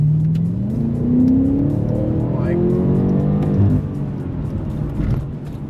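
A BMW M8 Competition engine revs up with rising pitch as it accelerates, heard from inside with a steady rumble and a gear change partway through.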